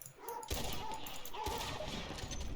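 Dogs at a cabin in a Western video game during a treasure hunt for Otis Miller's revolver, a few sharp barks and yelps against a noisy background, fairly quiet and close together.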